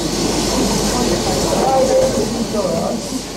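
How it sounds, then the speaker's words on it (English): A Hunslet Austerity steam locomotive, a type used by the military, on the Shropshire and Montgomeryshire line. It gives a steady, fairly loud rumbling hiss with no breaks, heard close by. "The locomotive was one of the ubiquitous Hunslet austerities"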